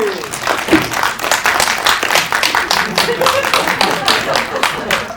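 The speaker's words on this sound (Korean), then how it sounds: "박수 한번 보내주시면 고맙겠습니다" A press screening and conference audience for a Korean spy film applauds a new director with loud, thick clapping that carries throughout, while a host's amplified voice speaks briefly over the start.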